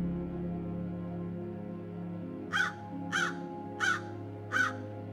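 A crow cawing four times in a slow, evenly spaced series, clear and fairly close, over a low steady hum of background music.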